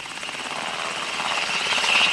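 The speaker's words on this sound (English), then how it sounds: "This is one of the 3 new Sikorsky Black Hawk helicopters, known in the UN as White Hawks, which the US battalion recently deployed." A Sikorsky Black Hawk helicopter, painted white for UN peacekeeping use in Macedonia, drones with a steady rotor and turbine roar that swells slightly louder as it nears, with no voices over it.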